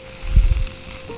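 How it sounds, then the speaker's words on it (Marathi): Cauliflower sautéing in a pan while making mixed vegetable kadai masala, giving a brief, low sizzle with a few soft bursts of frying noise, fairly close and not masked by talk. "कॉलीफ्लॉवर आज चांगल्यापैकी परतून घेऊ"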